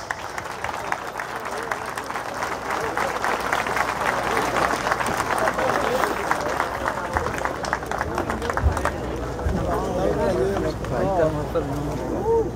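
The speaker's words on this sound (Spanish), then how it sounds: "Fuertes las palmas." An audience breaks into sustained applause at an outdoor gathering in the ruined courtyard of a house in Ica, Peru, the dense clapping continuing throughout with voices and crowd noise mixed in.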